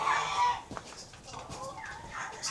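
Backyard chickens clucking and squawking around full feeders, a busy overlapping chorus of short calls close by, with some background noise under the birds.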